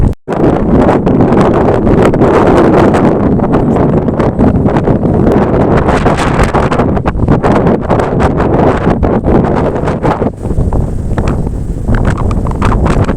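Strong storm Pedro gusts in Gironde buffet the microphone while a scooter pushes into a headwind, a loud continuous roar that surges and dips throughout with no talk.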